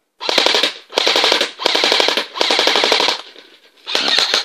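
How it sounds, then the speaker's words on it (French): An airsoft M4 rifle fires on full auto in five loud, close bursts of rapid mechanical clacks, separated by short pauses. "même si on est en rafale, après vous verrez, les tirs sont très groupés"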